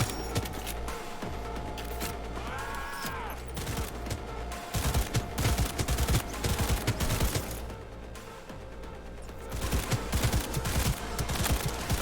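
Smart gun fire from the Cyberpunk 2077 video game, a run of dense, loud gunshot bursts in quick succession over busy game ambience, with short pauses between volleys.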